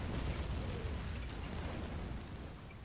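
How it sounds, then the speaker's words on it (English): Distant bombardment explosions in the Rise of the Reds strategy game, a continuous low rumbling roar of overlapping blasts that slowly fades. "I see bombardment."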